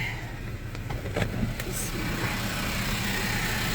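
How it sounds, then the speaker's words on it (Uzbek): A 2024 Hyundai Porter propane truck idles close by with a steady, even engine hum that holds at the same level throughout, with faint clicks and brief higher tones on top. "Mashina chotki holatda ishlab turibdi."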